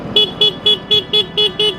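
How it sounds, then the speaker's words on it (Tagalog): A car horn honking seven times in quick, evenly spaced beeps, loud and close. "ang busina natin, mas malakas, much better"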